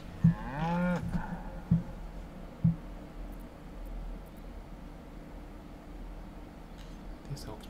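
A cow in Baldur's Gate 3 gives a long low moo near the start, followed by a few soft thuds over quiet game ambience.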